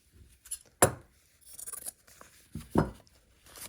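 Fabric for a pickle dish quilt block being trimmed with scissors: two sharp, close snips stand out, with soft rustling and handling of cloth between them in a quiet room.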